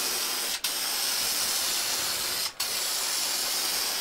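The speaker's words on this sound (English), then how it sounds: "Anytime we're spraying something, I'll just leave it pointed at you guys." Steady hiss of a spray gun applying finish to a multicolored wooden plank turning on a homemade lazy Susan, continuous and close with two brief breaks in the spray.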